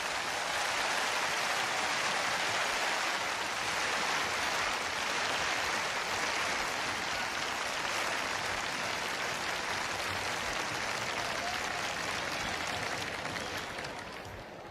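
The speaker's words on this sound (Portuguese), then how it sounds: "Demos un aplauso." A church congregation applauds during a service for a long stretch. The clapping is broad and steady, with a dense, rain-like wash that fades slightly near the end.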